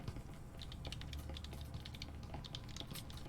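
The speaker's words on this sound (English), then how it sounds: "can hear you typing to him." Rapid, continuous clicking of typing on a mechanical keyboard, quiet and close, with irregular keystroke rhythm and no voices.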